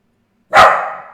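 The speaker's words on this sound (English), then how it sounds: "this is just a guy walking by with his two dogs" A single close, loud dog bark bursts out after a moment of silence and trails off, heard as a man walks past with his two dogs outside.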